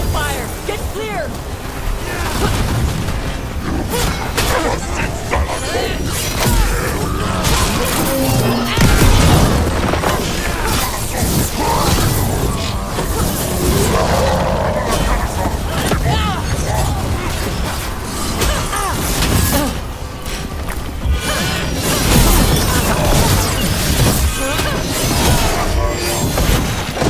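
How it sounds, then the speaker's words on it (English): Cannon fire booms and crashes through a chaotic battle in Dragon Age: The Veilguard, loud dense rumbling impacts and debris layered under shouting voices. "Cannon fire! Get clear!"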